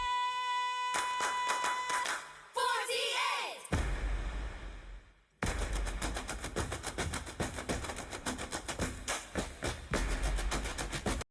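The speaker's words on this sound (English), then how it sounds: "instead of music, it is claps and perhaps like stomps and dance moves" Rhythmic hand claps and stomps in a music video, dense sharp percussive hits landing in quick regular patterns, with a brief tonal passage at the start and a short pause midway.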